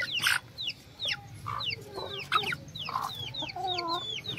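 Pet chickens clucking close by, with a stream of short rising and falling clucks and a few sharper squawks overlapping one another.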